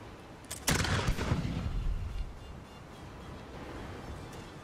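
Ship cannons firing grapeshot in the naval video game Blackwake, a loud, booming blast followed by a rumbling, crackling tail that fades into steady background noise.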